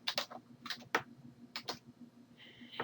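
Keys clatter on a computer keyboard as fill-in-the-blank answers are typed, in quick irregular bursts of close, light clicks over a faint steady hum, ending with a brief high tone.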